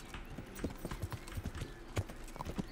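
Horse hooves in the game Kingdom Come: Deliverance clop in an uneven, close series of hollow knocks on the ground, repeating steadily over a faint background hum.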